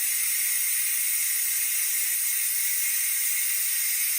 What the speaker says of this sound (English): That is the steam coming out. Okay, it's coming out from this space over here.